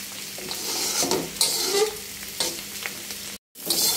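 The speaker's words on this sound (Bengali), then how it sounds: "আমার প্রায় ভাজিটা হয়ে গেছে" Sliced bitter gourd (karela) sizzles steadily in a pan as a home bhaji, with scraping stirs breaking through the hiss and a brief cut to silence near the end.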